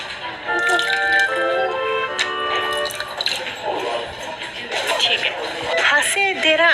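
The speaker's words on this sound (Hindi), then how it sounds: "तो यहाँ पे पैसे धोएंगे तो अच्छा माना जाता है, तो मैं भी पैसे धोऊंगी।" Money is washed in well water at a Benzaiten temple in Japan, with trickling and dripping water and light splashes heard under someone talking.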